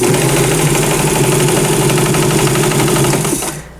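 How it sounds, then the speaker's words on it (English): A sewing machine stitching fabric pieces for a custom dress form, a steady continuous mechanical whir running loud and close for several seconds before stopping abruptly. "I am going to be sewing this starting at the bottom"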